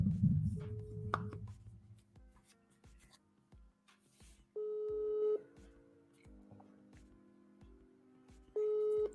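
A WhatsApp call rings out from a phone or computer, steady repeated electronic tone pulses after some quiet clicks, moderately loud and alone.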